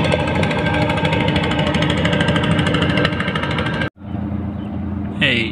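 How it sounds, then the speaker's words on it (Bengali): A fishing trawler's engine running fast on the Jamuna river, a loud, steady rattling drone with heavy low rumble that cuts off abruptly, then continues more quietly with a brief high whine near the end. "অনেক জোরে ট্রলার যাচ্ছে"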